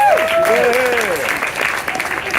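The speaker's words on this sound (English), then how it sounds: "Give them a round of applause, please." Donors at a Birthright Israel fundraising event in Watermill, New York, clapping in a round of applause, with a voice talking over the start of it.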